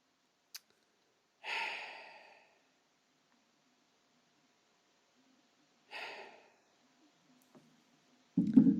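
Two separate puffs of breath, like sighing or panting exhales, stand out close against near silence. A brief click comes before them and a louder thud at the end.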